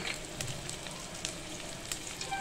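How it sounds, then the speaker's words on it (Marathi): Ground spices fry in a pan with ginger garlic paste, a steady close sizzle with faint crackles and occasional stirring, alone and without talk. "आता हे पण आपल्याला मसाले परतून घ्यायचे"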